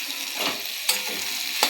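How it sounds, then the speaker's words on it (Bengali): Potatoes with onion greens fry in a pan, a continuous soft sizzle broken by two or three quick scraping sweeps of a spatula, close and alone. "আবার একবার নেড়ে নেব।"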